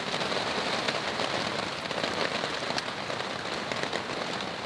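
Rain falling on a camp in the Canadian Rockies, a loud, steady patter of drops hitting surfaces close by, with dense crackling texture and no voices throughout.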